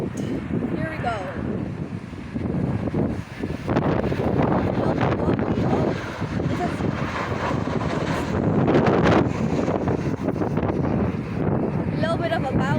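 Strong, gusty wind buffets the microphone at an airport spotting location near Dublin Airport, a loud continuous rumble with a faint aircraft engine roar underneath.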